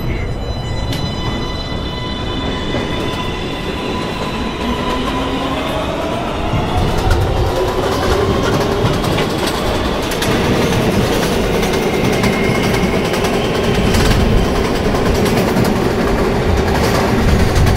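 A simulated New York City subway 1 train in a video game rumbles loudly and continuously, with rising motor whine, clattering wheels and metallic squeals as it runs toward a station.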